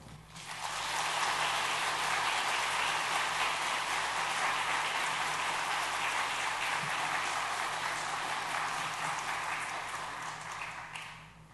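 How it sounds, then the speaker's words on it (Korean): Applause from a church congregation welcoming a guest preacher to the pulpit at a Sunday afternoon service: a dense, steady wash of clapping that fills the room for about ten seconds, then fades. "나오실 때 우리 박수로 환영하겠습니다"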